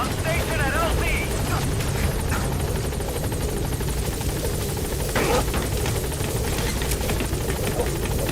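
B-Quad support helicopter from Metal Gear Solid V approaching a landing zone, a steady loud rotor and engine drone filling the whole stretch, with radio voice chatter over it.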